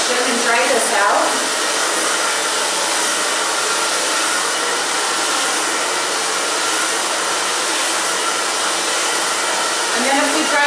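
A hair dryer roars steadily and loud throughout, blowing a section of a chunky bob haircut dry in a professional salon styling session.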